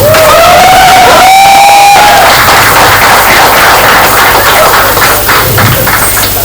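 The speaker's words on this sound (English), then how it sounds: "Please welcome all our panelists with a huge round of applause." A Mumbai book launch crowd cheers and applauds as panelists are welcomed, very loud and continuous, with whoops and shouts over dense clapping and a brief whistle-like tone near the start.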